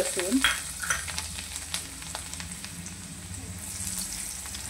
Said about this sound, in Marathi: लसूण चांगली फ्राय होऊ द्यायची आहे।